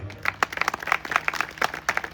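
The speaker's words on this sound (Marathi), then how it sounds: "एकदा जोरदार टाळ्या होईल" A short burst of clapping from a small group at a religious kirtan gathering, uneven and fairly close, lasting about two seconds.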